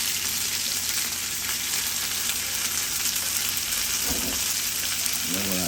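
Tomato basil sauce sizzles in a hot pan with a portion of pasta, a steady close frying hiss throughout, with a brief stirring scrape near the end.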